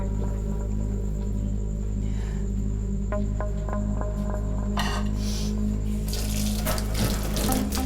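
Steady running water from a kitchen tap while dishes are washed, loud and continuous, with light clinks of dishes and a louder splashing surge near the end.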